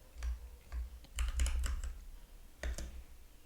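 Keys on a computer keyboard are tapped to enter a Neovim command, a few quick close clicks in small bursts separated by brief pauses, quiet and alone.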